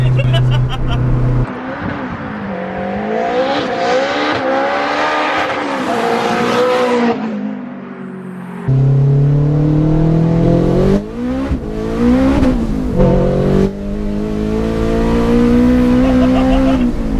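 A 377 bhp turbocharged Honda DC5 on a B-road revs hard and accelerates. The engine note climbs and falls through the gears, loud and close, with a brief lift around eight seconds, and people talk over it.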